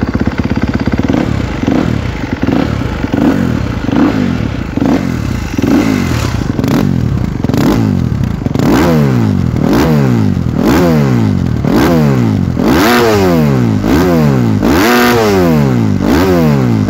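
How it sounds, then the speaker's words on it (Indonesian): A Kawasaki KX250 dirt bike engine starts and idles roughly, then revs repeatedly in sharp rising and falling bursts, loud and close throughout. "pencet tombol startnya 2-3 kali dulu supaya fuel pumpnya nyala, baru untuk yang keempatnya langsung di start untuk menyalakan motornya"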